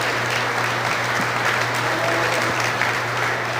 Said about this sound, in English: Big round of applause for our champion and reserve champion breeding female.